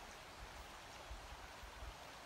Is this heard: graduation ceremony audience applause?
no